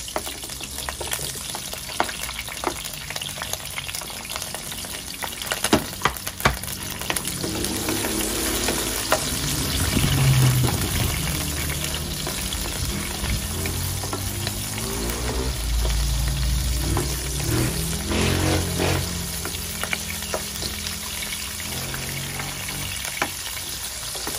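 Tomato pieces sizzle and spatter in hot oil while being stirred for milkfish sinigang, a steady crackling fry with scraping stirs and louder bursts of splatter, close and continuous with no talking.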